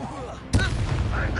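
A Bombarda blasting spell in the Hogwarts Legacy video game goes off as a single sudden, close explosive boom, followed by a lingering rumbling tail.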